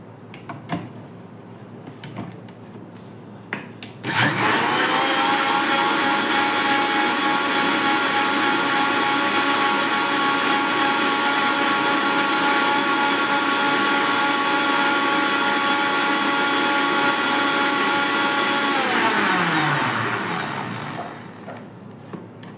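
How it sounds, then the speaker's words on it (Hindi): An electric blender whirs loudly and steadily through the cold coffee ingredients, a sustained high-pitched motor roar that starts abruptly after a few seconds of quiet and winds down near the end. "हम इसे सिंपली ब्लेंड कर देंगे"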